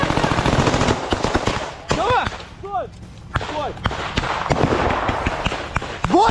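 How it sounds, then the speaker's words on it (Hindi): Rapid bursts of machine gun fire from Ukrainian special forces in combat against Russian positions crackle repeatedly, sharp and loud, broken by short pauses, with someone speaking over parts of it. "यूक्रेन की स्पेशल फोर्स मशीन गन से गोलियां चलाते हुए आपको दिखाई दे रही होंगी"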